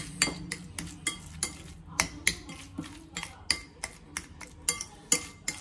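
A spoon is stirred through boiled egg and mayonnaise sandwich filling in a bowl, making sharp, repeated clinks and taps in an uneven rhythm, fairly quiet and close.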